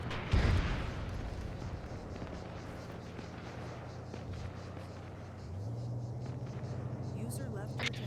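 Gunfire pounds at a tank in Arma 3, a heavy blast at the start followed by scattered distant shots and engine rumble, with voices talking over radio chatter throughout.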